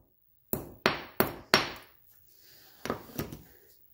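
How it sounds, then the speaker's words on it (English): Four sharp, evenly spaced hammer strikes flatten a small metal clip from a lawn mower discharge chute close by, followed by a few softer taps and light clatter. "now I'm going to go grab a hammer and flatten out this little clip"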